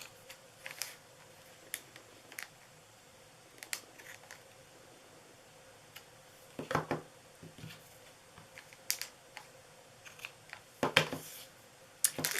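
Scissors snip through the tails of a Valentine's Day treat bag, a few sharp, quiet cuts spaced out over a soft background, with brighter clusters of snips toward the end.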